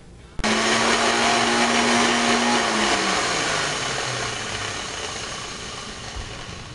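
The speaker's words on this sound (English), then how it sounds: "add the spinach to the blender." A kitchen blender mixing cottage cheese and spinach switches on abruptly with a loud whirring roar, its pitch dropping as the load thickens, then gradually winds down and quiets toward the end.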